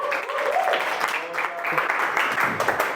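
Workshop audience giving a round of applause at a public speaking event, loud continuous clapping with cheering and voices mixed throughout.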